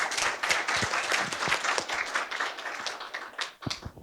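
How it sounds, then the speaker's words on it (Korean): Audience at an academic education conference in Korea applauds to welcome a discussant, a moderate, fairly distant patter of many hands that fades out near the end, leaving a few last claps. "박수로 맞이해 주십시오."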